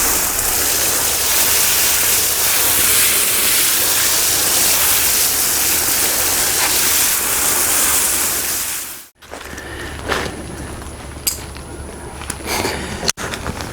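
Water pouring and gushing onto raised bed soil to soak it, a loud continuous rushing hiss that cuts off abruptly, followed by quieter faint splashes and drips.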